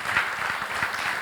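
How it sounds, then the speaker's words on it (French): Brief scattered applause at a Bordeaux Centre neighbourhood council meeting, a short burst of moderate clapping from a modest crowd. "On peut les applaudir, oui, après tout."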